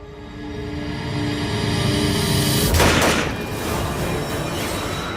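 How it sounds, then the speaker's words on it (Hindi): A single gunshot fired into the air cracks out loud and close, a sharp blast that rises from steady background noise and then dies away into a lingering rumble. "ये गोली चलने की आवाज कहाँ से?"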